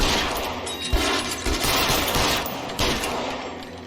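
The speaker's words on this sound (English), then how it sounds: "Somebody's still shooting somebody though" Dense, sustained gunfire from the L.A. Noire video game, a continuous fusillade of overlapping shots and rapid bursts that keeps loud and busy throughout with no pauses.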